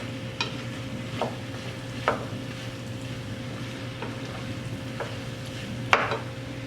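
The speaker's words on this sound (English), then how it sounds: "And I'm stirring it in." French onion and potato soup stirred in a pot, soft scraping strokes of a spoon recurring about once a second over a low steady hum, quiet and close.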